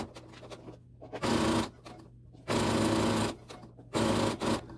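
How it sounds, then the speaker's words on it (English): A sewing machine stitches close along fabric piping in a seam, running in three loud, steady bursts separated by short quiet pauses. "And at this point, now I can sew a little closer into that piping."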